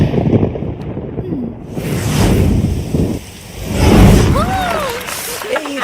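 Heavy rain and wind roar over a scene, with a low rumble of thunder swelling midway. The sound is loud and continuous, and faint voices drift in near the end.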